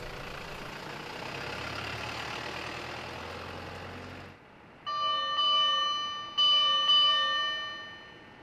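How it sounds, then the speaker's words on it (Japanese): A fire brigade pump truck's bell rings at night during a fire-prevention patrol: after a stretch of low engine rumble, several bright metallic strikes ring out in a slow sequence, close and loud. "分団が所有するポンプ車の赤色灯を点灯させ、鐘の音を鳴らしながら市民の皆さんに火災予防を呼びかけます"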